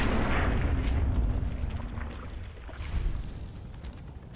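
A suicide bomber blowing up in Fallout 4, a loud, rumbling blast with heavy low-end roar that stays dense and sustained before slowly thinning into debris noise, no voices.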